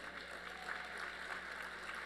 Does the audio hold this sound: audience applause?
yes